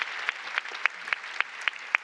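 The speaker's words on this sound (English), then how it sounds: "Applause are definitely in order for you." Applause at a youth water prize award ceremony, sounding thin and moderately quiet, with a soft wash of clapping and sharper individual claps landing at an even, regular pace.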